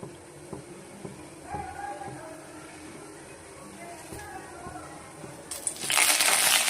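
Half a spoon of mustard seeds dropped into hot oil in a pan for rasam tempering: quiet low rustling at first, then a sudden loud, dense hissing crackle that bursts in and keeps building near the end.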